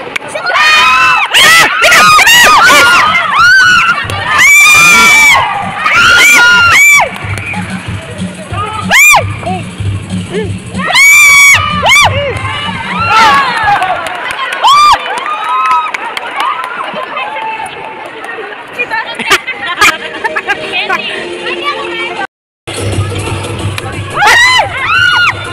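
Children shouting, screaming and cheering at a family gathering, loud and continuous with excited voices and running commotion through most of the stretch, with a brief silent gap near the end.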